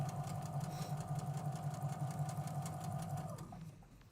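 A home sewing machine runs steadily with a continuous motor whir and a fast needle rhythm, then slows and stops near the end; no one speaks over it.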